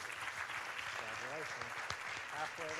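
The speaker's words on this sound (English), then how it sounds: "if we can have a round of applause for these students" Steady applause from a crowd at a school awards ceremony for students fills the whole stretch, with a voice speaking over the clapping.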